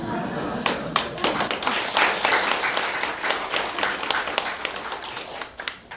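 An audience at a Korean Buddhist studies academic workshop claps in a lively, uneven burst of individual hand claps that gradually thins out, heard in a lecture hall with some voices underneath.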